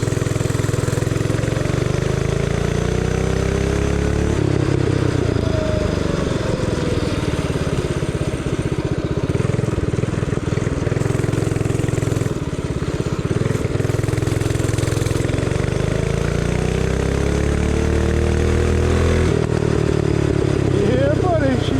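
Motorcycle engine running steadily up close, a loud continuous chugging drone with rises and falls in revs as it rides on a wet day, wind rumble mixed in.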